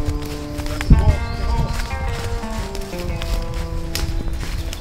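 Horse hooves clopping amid a noisy outdoor Wild West shooting competition, with a brief loud thump and a faint whinny, under steady background clatter and murmur.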